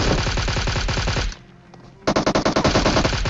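Video-game automatic gunfire shooting an enemy: a loud, rapid stream of shots, a brief pause, then another burst of sharp, evenly spaced shots, up close and with no talking.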